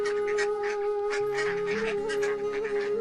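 Cartoon ducks on a village pond quack over a steady musical backing, several short nasal calls in quick succession, fairly loud and close.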